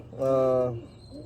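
A racing pigeon gives a single short, close, throaty coo that swells and fades within about half a second, followed by a quieter trailing sound.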